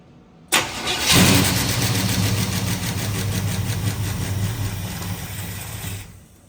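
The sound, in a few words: Chevrolet Camaro engine starting with jump box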